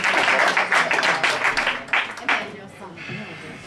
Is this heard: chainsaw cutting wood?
no